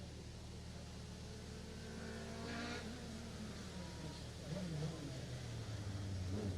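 Rally car at the Jersey Rally 2018 approaches and passes, its engine rising and revving in pitch from the distance, with a commentator talking over it.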